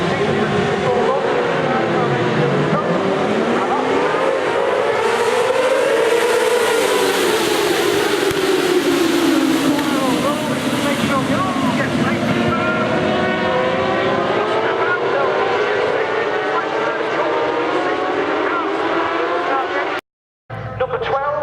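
Sidecar motorcycles roar off the start of a five-lap road race at Oulton Park, a loud sustained engine wail that swells and sweeps in pitch as the outfits pass, then cuts out abruptly near the end.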